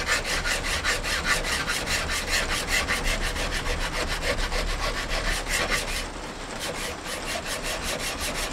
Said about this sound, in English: Doing a bit of what you call draw filing, only takes off a tiny little bit.